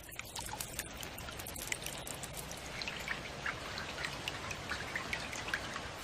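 Steady patter of rain falling on plants, a dense soft hiss with scattered brighter drips, continuous and fairly close, with no voices.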